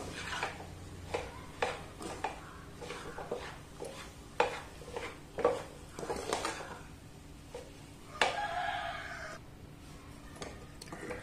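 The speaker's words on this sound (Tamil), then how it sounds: "நல்லா எல்லாம் ஒண்ணு சேர்ந்து மிக்ஸ் ஆகி வர்ற அளவுக்கு மிக்ஸ் பண்ணி எடுத்துடலாம்." A spoon scrapes and taps against a pan as roasted coconut is stirred into a flattened-rice mixture over a low flame, with irregular close clinks and scrapes repeating throughout.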